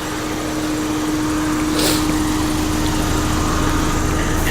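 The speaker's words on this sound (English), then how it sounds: "The engine seems like it can get pretty noisy." A 2017 Ford Fiesta SE engine idling close by, a steady loud hum with a constant low drone and a faint tonal whine, no talking.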